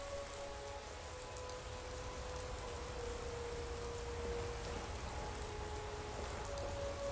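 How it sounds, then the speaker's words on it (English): Steady rain in the video game Skyrim falls continuously, an even hiss of drops with a faint tonal hum underneath, no voices. "it's raining"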